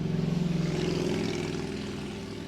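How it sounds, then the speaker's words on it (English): Motorcycles passing outside a building, a loud, steady low engine drone that rumbles alone for a couple of seconds and slowly fades as they move away. "Sorry, motorcycles again."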